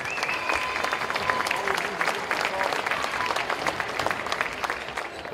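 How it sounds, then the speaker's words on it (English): A crowd in a gym applauds seniors at a varsity boys basketball game, steady sustained clapping with some crowd noise mixed in, moderately loud throughout. "One more round of applause for all five of our seniors."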